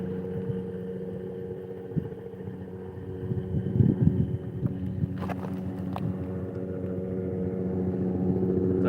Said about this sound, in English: So here comes a helicopter.